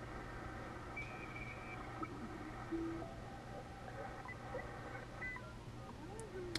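Soft electronic beeps sound as a frequency is keyed into an ICOM 7300 amateur radio, a few short tones scattered over a steady low hum and faint background noise, fairly quiet and with no talking.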